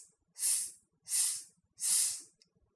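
A voice imitates air hissing out of a tyre with three long, even hisses in a steady rhythm, close and fairly loud, followed by a faint short hiss.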